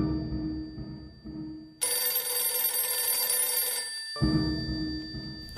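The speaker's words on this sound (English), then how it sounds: "I think the phone is ringing." A telephone rings loudly in a radio drama, with bursts of bright, electronic ringing separated by short pauses and no voices over it.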